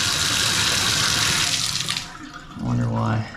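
Water sprays and hisses from a loose, hand-tightened plumbing fitting on a newly connected house line, a close steady rush that fades out partway, followed by a short tonal squeak.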